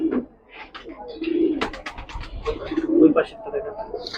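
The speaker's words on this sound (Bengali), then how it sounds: "মাদি কবুতর" Soft, throaty coos of a female pigeon repeat nearby, mixed with a few chirps and a person talking at intervals.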